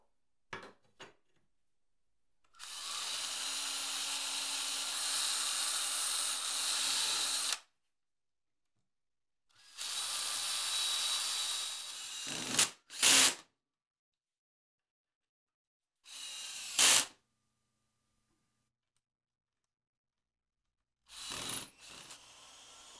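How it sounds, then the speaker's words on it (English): A power drill drives screws into the wooden parts of a drill press table, two long steady whirring runs and several shorter bursts separated by silence, close and alone. "Last test fit before we screw it together."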